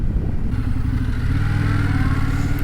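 Indian Scout 101 motorcycle engine, a 2025 model, pulling away in first gear: a steady, loud low-pitched engine drone rising slightly in revs, close and continuous with no talk.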